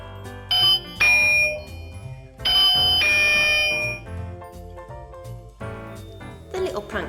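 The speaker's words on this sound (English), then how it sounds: "the doorbell would ring, but every time I'd go to it, nobody would be there" Electronic doorbell chimes ring out in bright tones, repeating a few times with sustained ringing notes, with other sounds layered underneath.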